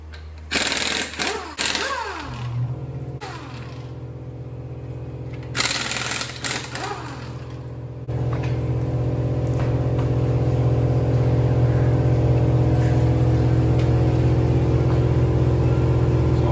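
An impact wrench with a 21mm socket zaps the wheel fasteners off a car in two loud rattling bursts a few seconds apart, followed by a steady mechanical hum that fills the rest.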